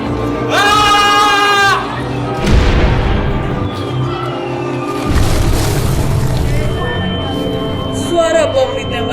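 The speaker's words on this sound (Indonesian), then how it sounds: "Suara bom ditembakkan oleh musuh dan meledak di dekat Ignatius." A bomb explosion sound effect plays during a live stage drama: loud, rumbling booming blasts follow each other amid other dense, chaotic noise.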